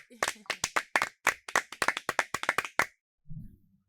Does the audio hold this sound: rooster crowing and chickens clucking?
no